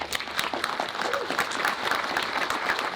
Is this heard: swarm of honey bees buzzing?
no